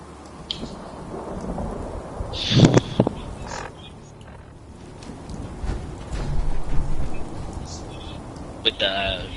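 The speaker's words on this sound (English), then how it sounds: "With the rain on your visor." Rain and thunder inside a PS4 video game, steady rainfall with rumbling thunder swelling at intervals, including a louder crack midway, along with scattered bird chirps and occasional voices.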